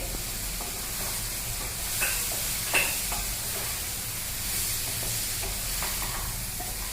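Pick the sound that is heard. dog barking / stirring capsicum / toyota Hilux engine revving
stirring capsicum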